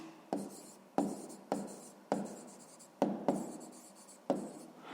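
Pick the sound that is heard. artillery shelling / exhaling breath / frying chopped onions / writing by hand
writing by hand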